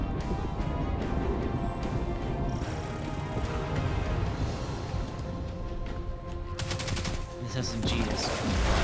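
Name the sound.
SMG firing in the video game Destiny 2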